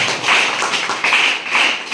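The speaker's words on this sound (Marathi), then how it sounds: "यांच्यासाठी एकदा जोरदार टाळ्या वाजवा" An audience bursts into vigorous applause at a village stage event honouring Guru-Shishya Jayanti on 1 May; dense, steady clapping fills the room close by, swelling in a few waves without any voices.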